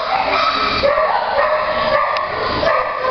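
A dog barks and yips in short repeated bursts, close and fairly loud, over a steady background hum, likely at an animal shelter showing young dogs for adoption.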